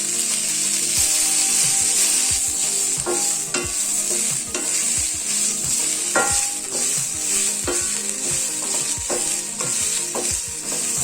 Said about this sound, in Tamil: சுண்டைக்காய் வந்து கொஞ்சம் நல்லா வதங்கணும் எண்ணெயிலே